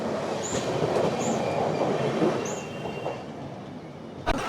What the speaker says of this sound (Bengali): 573 কিলোমিটার যাত্রাপথ কমপ্লিট করলো আমাদের এই ট্রেন নাম্বার 12378 পদাতিক এক্সপ্রেস